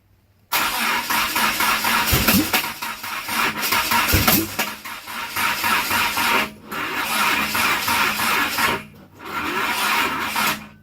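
A Conquest car engine cranks and catches, then roars at high revs, holding loud with brief dips and a sudden cut before revving again; the idle stays stuck high.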